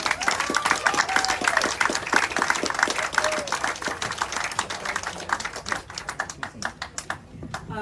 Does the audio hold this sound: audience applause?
yes